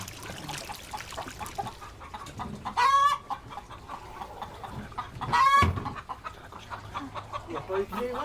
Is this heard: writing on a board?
no